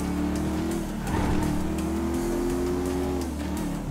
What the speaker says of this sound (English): That's a monster fucking bike you riding, stupid.